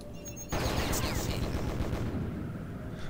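Sudden heavy burst of gunfire in the video game Battle Isle: Der Andosia Konflikt, rapid overlapping shots in a sustained volley, loud and booming, continuing without pause to the end.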